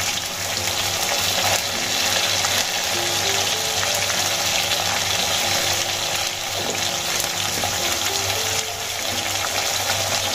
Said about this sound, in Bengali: আমি আলুগুলো ভেজে নিয়েছি, এবার আলুগুলো লাল লাল করে ভেজে নেব।